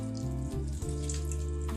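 About a cup of water splashes steadily from a nearby pour into a pan of vegetables, green chillies and macaroni, a continuous close gurgle with a low steady hum beneath and no talking.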